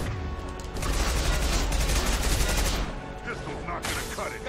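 Rapid bursts of gunfire in Mass Effect 2 crackle loudly in close succession, a dense volley that briefly drops off and then resumes in shorter bursts.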